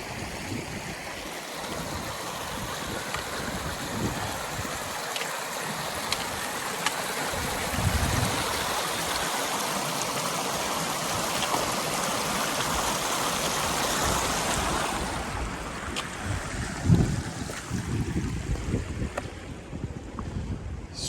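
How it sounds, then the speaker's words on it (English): A mountain stream running high at a hiking crossing below a Colorado 13er, with snow around, rushes in a steady, close, broadband roar that never lets up and has no voices over it. "Stream crossing gets kind of tricky when the rivers are running so high."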